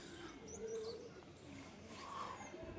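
Domestic pigeons, a young hen among them, coo softly with low murmuring calls and faint chirps at a moderate distance over steady background noise.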